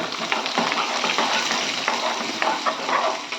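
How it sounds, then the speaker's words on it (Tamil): Onions and garlic sizzle steadily in a hot pan on a low simmer, with occasional scraping and stirring sounds over the continuous crackle. "இதை நல்லா சிம்மில் வதக்கிக்கலாம்"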